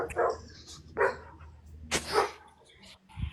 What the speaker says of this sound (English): My neighbor's dogs got out, and they have Chinese hairless dogs.